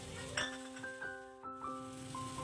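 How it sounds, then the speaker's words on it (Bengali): A ground spice paste for katla fish curry fries in a pan with a soft sizzle, while a spoon clinks and scrapes against the metal a few times over a couple of seconds. "এই গুঁড়ো মশলাগুলো দিয়ে এই বাটা মশলার সাথে আরও 5-7 মিনিট কষিয়ে নিচ্ছি।"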